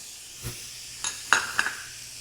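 Bacon, onion and garlic sizzling in a skillet, a soft continuous hiss with a few brief stirring scrapes and pops, no talk.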